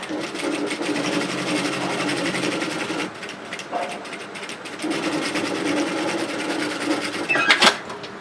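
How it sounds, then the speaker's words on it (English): A sewing machine stitches a straight line through fabric for a small loyalty card wallet. It runs steadily and close up, pauses briefly near the three-second mark, then starts again and keeps going, with no one talking. "Just go ahead and sew a line up."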